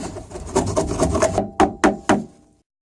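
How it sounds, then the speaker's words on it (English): Steel chisel scrapes and gouges old wood out of a fiberglass boat part, a dense rasping run followed by three sharp separate strikes, close and loud, then falling silent. "I'm going to be using a hammer and a chisel to get this wood out of here."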